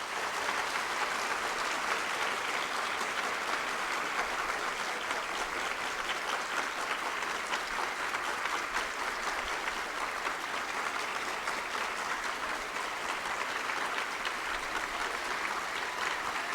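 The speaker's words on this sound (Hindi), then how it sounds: "अपने सब खेल शिक्षकों के लिए जोरदार ताली बजाओ।" Students at a three-day provincial school sports meet hold long, loud, steady applause for their sports teachers, a dense crowd clapping without pause.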